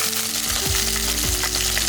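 Curry leaves crackle in hot oil with mustard seeds, urad dal, fenugreek and cumin, a steady sizzle with a few stirring scrapes, heard under background music.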